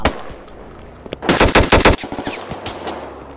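Rapid machine gun fire in a video game raid, a loud burst of closely spaced shots lasting under a second, followed by quieter scattered game sounds and clicks.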